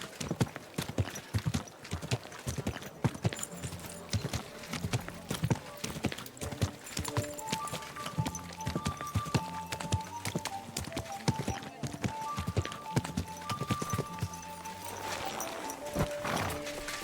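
Horse hooves clip-clop in a steady, continuous rhythm throughout in the video game Kingdom Come: Deliverance II, with a faint melodic tone joining in the background partway through.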